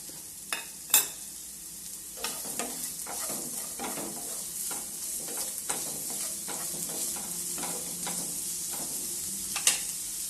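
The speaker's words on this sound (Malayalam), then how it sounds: "എണ്ണ നല്ലതുപോലെ ചൂടായിട്ടുണ്ട്. ഇനി ഉള്ളി ഇട്ട് കൊടുക്കാം." Onions frying in hot coconut oil in a pan, a steady sizzle with a few sharp clacks of stirring, alone and moderately close.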